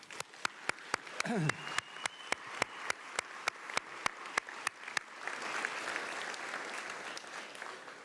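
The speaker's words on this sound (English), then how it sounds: "I think we need to give a round of applause to our donors." Applause from a graduation audience, starting with a rhythm of sharp, regularly spaced claps and then swelling into steady, moderately distant clapping from the crowd.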